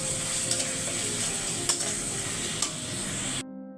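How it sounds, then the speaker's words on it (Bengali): Ground spices being stirred and fried in a pan for an egg and potato bhuna curry, a steady close sizzle with soft scraping strokes throughout, cutting off abruptly near the end. "গুঁড়া মশলাগুলো দিয়ে দিলাম এখন সব কিছু মিলিয়ে কষাবো"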